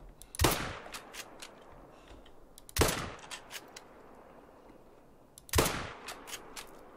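Three loud rifle shots from the hunting game theHunter Call of the Wild during a turkey hunt, evenly spaced a few seconds apart, each a sharp crack with a short fading tail and no talking.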